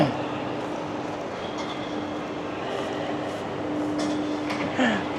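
A passenger train sits parked at a station platform, a steady low rumble with a faint sustained hum and a brief rising whine near the end, with muffled station ambience around it.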